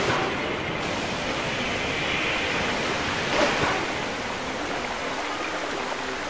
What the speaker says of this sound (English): This water should flow all the way down to the lake.